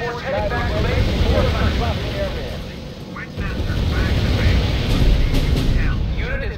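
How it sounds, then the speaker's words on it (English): An aircraft flies in the wartime strategy game R.U.S.E, heard as a steady, loud engine roar with rumbling battle noise, while voices talk over it. "Plane is returning for replenishment."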